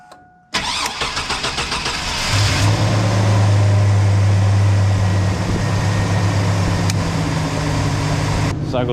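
A Chevy 1500 truck engine cranks and catches after a short silence, then settles into a loud, steady idle with a deep low drone as the transmission is cycled through the gears, close and continuous.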